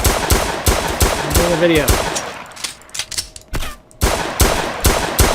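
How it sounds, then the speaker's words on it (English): Rapid automatic gunfire in the space combat game Cosmic War Tycoon comes in loud, close bursts of sharp repeated shots, with a short lull in the middle and someone talking over part of it. "I feel like someone's over here shooting."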